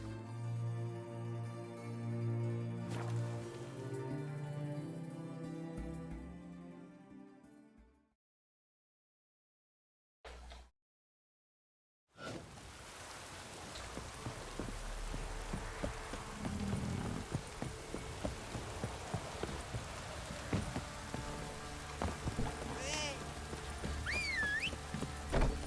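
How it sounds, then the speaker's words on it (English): Rain in Witcher 3: Wild Hunt comes in after fading music and a brief silence, then keeps up a steady, soft patter of falling drops with scattered small taps and occasional faint in-game sounds. "Looks like rain."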